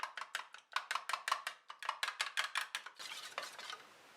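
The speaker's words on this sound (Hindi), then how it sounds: "अब अंडे को हल्का सा फेंटेंगे।" Eggs lightly beaten in a bowl with a fork or whisk, a quick run of rhythmic clicking strokes against the sides, close and clear, ending in a softer swirling scrape.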